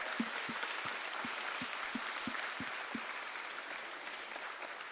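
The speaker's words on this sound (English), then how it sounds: "Everyone give a round of applause." Steady, even applause from a large hackathon audience, continuous dense clapping at moderate distance with a regular low thumping running under it for the first few seconds.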